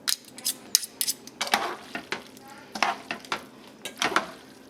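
Spaghetti carbonara with egg is stirred in a pan, with close, irregular scraping swirls and clinks of a utensil against the metal, brief sizzle between strokes and no voices.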